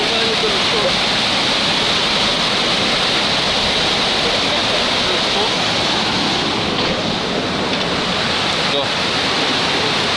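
Rushing river water in Mtirala National Park, Adjara, roars steadily and loudly up close, a dense, unbroken wash of noise throughout.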